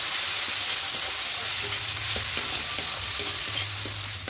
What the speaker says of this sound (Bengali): এবার দিয়ে খুব ভালো করে মশলাটাকে কষতে থাকবে।